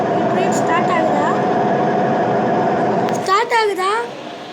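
A steady engine drone runs throughout, loud and close, before easing as chirpy, warbling tones break in near the end.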